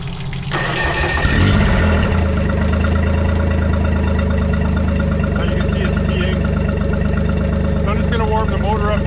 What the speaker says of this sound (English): Warm the motor up here for a few minutes